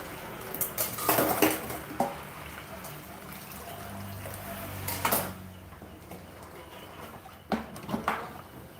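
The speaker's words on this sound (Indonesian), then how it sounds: "Masih cuci piring teman-teman." Plates and cutlery clatter as dishes are washed at a warung on a Saturday night, with irregular bursts of ceramic and metal clinks and knocks between quieter stretches of faint water and background murmur.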